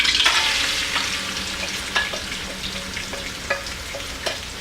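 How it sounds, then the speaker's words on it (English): Onion frying in plenty of oil in a pot while being stirred: a bright, constant sizzle up close, broken by a few sharp scrapes of the utensil against the pot. "you have to fry onion a little, maybe for 5 or 8 minutes until it's golden brown"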